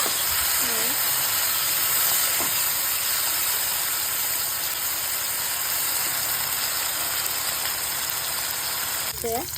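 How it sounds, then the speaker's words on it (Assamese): Mushroom pieces rubbed with salt and turmeric sizzle and hiss steadily in hot oil, a dense, constant frying crackle running loud and close throughout, with a brief voice near the start and end. "তাৰপিছত এতিয়া ফ্ৰাই কৰোঁ ব'লক"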